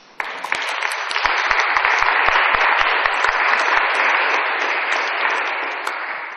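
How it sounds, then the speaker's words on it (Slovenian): Sustained audience applause at a water-themed public talk, dense and steady, rising quickly to full volume and holding for several seconds with scattered individual claps standing out. "In en spodbuden aplavz pa nam govorica osem."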